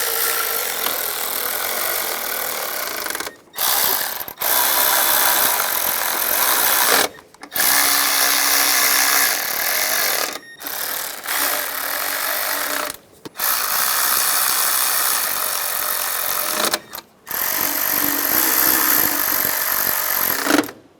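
A power tool buzzes in long, loud bursts separated by short pauses while bolts and nuts on the studs of a 1996-2002 Toyota 4Runner's fuel injectors are tightened.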